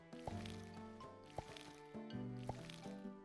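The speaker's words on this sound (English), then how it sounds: "Give that a quick water." Watering crops with a watering can in the farming video game Sun Haven: soft splashing and dripping water effects over gentle background game music, with a few light plinking accents.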